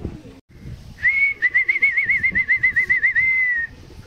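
A racing pigeon arrives at a loft in Santa Maria, Quezon, as a clear, warbling whistle-like call rises alone for about two and a half seconds, pulsing in quick, regular beats over low background rumble.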